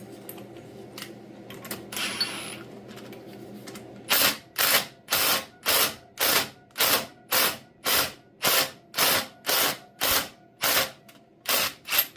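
Ratchet wrench clicking in a steady run of about thirteen evenly spaced bursts while removing a bolt from a 1950 Farmall Cub tractor during pulley seal work, close and fairly loud after a few seconds of quieter mechanical rustle.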